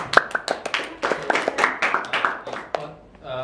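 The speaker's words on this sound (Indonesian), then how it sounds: "Tepuk tangan dulu teman-teman." A few people in a school podcast setting clapping hands in scattered, uneven bursts, fairly close, with voices and laughter mixed in and fading at the end.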